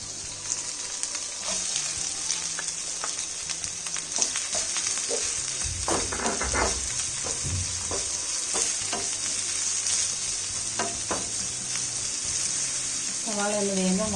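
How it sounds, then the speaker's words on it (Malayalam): Onions sizzle in hot oil in a pan as a spoon stirs and scrapes them in bursts, over a steady hiss of frying; close, and no one speaks. "സവാള ഇട്ട് കൊടുക്കാം"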